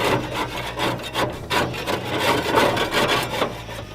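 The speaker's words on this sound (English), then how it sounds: "scrape off these shields down here" Rough, steady scraping of a scraper over the heat shields inside a Weber Genesis gas grill, close and loud, with rhythmic back-and-forth strokes running continuously.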